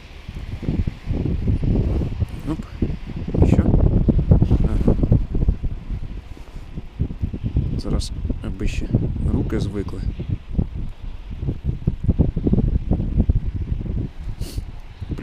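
Gusty wind buffets the microphone with heavy low rumbling that rises and falls, while someone speaks intermittently beneath it outdoors on first ice while ice fishing.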